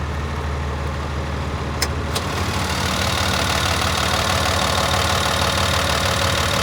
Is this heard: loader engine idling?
yes